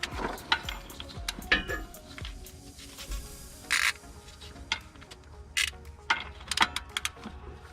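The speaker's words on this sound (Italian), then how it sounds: "Una volta infilato ci vado a mettere la chiave a crick da mezzo" A half-inch ratchet wrench working loose a transmission oil plug on a Land Rover gives quick clicking pawl ratchets in short bursts, with metallic clanks and tool handling between them, close and fairly quiet.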